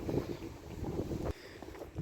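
Strong wind buffets outdoors, a steady rough rumble with gusty swells and a short drop partway through.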